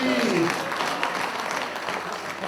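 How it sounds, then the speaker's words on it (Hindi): An audience bursts into applause at a lively Punjabi-Hindi stage event, clapping and crowd noise swelling at the start and then fading. A bit of voice is heard at the very opening. "जोरदार तालियां"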